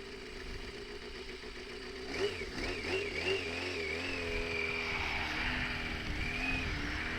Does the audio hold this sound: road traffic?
yes